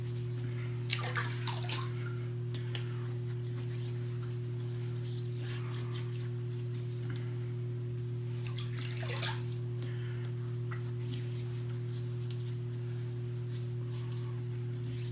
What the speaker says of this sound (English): I'm just going to rehydrate the face.